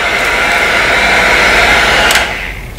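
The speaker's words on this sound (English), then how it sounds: "A hair dryer works much better than a heat gun because this gets really, really hot." A hair dryer on its high setting blows hot air onto fresh airbrushed paint on a custom crankbait fishing lure, a loud, steady close whir that drops slightly near the end.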